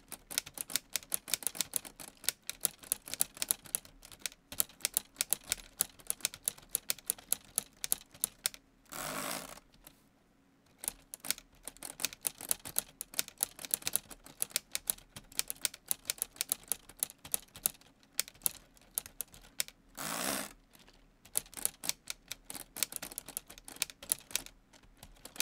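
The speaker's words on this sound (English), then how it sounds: "So I'm just going to do a little bit of typing here just to kind of give you an idea." Keys clacking on a typewriter built from Lego, a fast irregular stream of sharp close clicks with two short bursts of carriage or bell-like noise, no voices.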